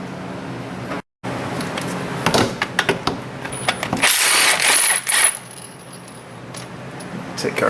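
A ratchet on a Honda J35 V6 engine while its timing covers go back on, quick clicking ratchet strokes in short runs with metallic tool clinks, close by.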